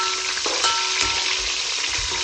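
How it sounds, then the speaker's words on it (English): Onion and green chili fry over a high flame in a pan for tomato chutney, giving a steady, loud sizzle with a few soft spatula scrapes as they are stirred. "now it's time to stir it"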